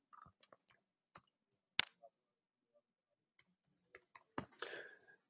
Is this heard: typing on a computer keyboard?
yes